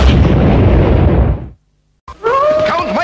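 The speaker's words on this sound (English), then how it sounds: "Or you can just sit back and watch the little guys explode!" Cartoonish explosions from lemmings blowing up in the Sega game Lemmings, as a loud, dense burst of blasts fades out into a brief silence, followed by squeaky high-pitched little cries and whistling tones.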